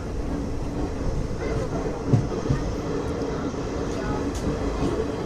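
Passenger train at Nadikudi Junction on the Repalle to Charlapalli route, a steady loud rumble of the moving carriages filling the whole stretch, with faint voices of a crowded coach beneath.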